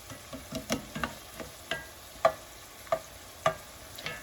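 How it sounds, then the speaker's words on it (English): Seafood cooks with onions and shallots in a pan, a low frying hiss punctuated by a regular series of sharp spatula taps and scrapes. "Let them cook on both sides with the onions and the shallots."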